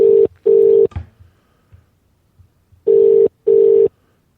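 Telephone call-progress tones, four loud steady beeps in two pairs separated by a pause, with faint noise in the gap and no talking.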